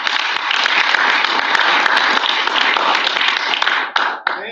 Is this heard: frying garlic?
no